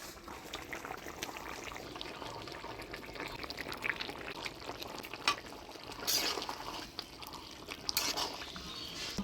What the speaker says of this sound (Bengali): ঝোল জাল হয়ে গেছে, এবারে ভাজে রাখা মাছগুলো দিয়ে দেব।